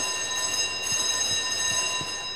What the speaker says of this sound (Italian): L'allarme funziona pure, ragazzi